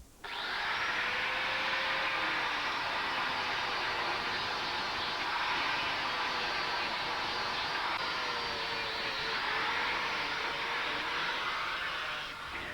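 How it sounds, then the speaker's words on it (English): An angle grinder trimming an animal's hooves runs as a steady, loud, continuous high-pitched whine and grinding roar that holds for the whole stretch with no talking. "And then finishing off the pedicure beautifully with an angle grinder."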